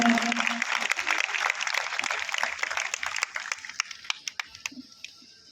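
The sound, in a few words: audience applause welcoming a cabinet minister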